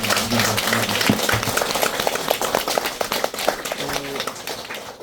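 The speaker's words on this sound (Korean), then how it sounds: "우리 어른 스님께 박수를 한번 보내주셨으면 감사하겠습니다." An audience at a Buddhist temple lecture applauds, a brisk, dense clatter of many hands clapping, with a voice briefly audible at the start and again near the end.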